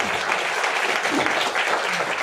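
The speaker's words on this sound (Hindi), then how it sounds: "दरोगा सर के लिए एक बार जोरदार ताली होनी चाहिए" A seminar hall crowd at a business meeting applauds a guest, a dense, even roar of clapping that stays loud and unbroken throughout, with no talk over it.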